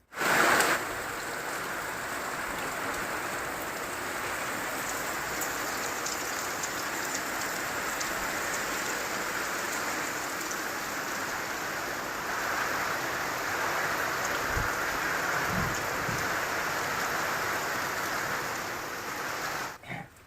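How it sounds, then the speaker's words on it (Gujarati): Heavy rain pours down steadily, a dense, even hiss of drops drumming on surfaces with no voices. "વરસાદ ફૂલ છે અત્યારે"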